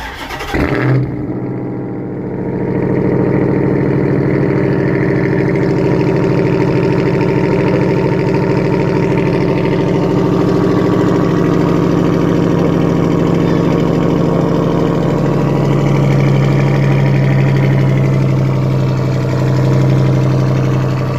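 A 2021 Ram 1500 TRX's 6.2-liter supercharged Hemi V8 cold-starts with a sharp crank and bark, then settles into a loud, steady, deep idle with a high supercharger whine rising toward the end.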